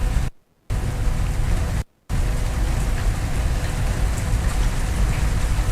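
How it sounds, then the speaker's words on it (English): Rain falling steadily in a dense, even patter, close and fairly loud, broken by two short dropouts of near silence. "And it's raining, guys."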